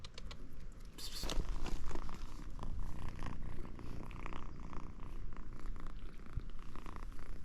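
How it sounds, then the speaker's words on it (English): A cat purrs close by in a steady rumbling rhythm, with some rustling and crinkling handling noises over it. "Every time you pick him up, he starts to purr."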